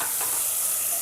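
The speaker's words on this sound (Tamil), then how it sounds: "இப்போ வெங்காயம் நல்லா வெந்து வந்துடுச்சு," Onions frying in a pan while cooking thai velli, a steady close sizzle with a bright hiss and faint stirring, heard alone without speech.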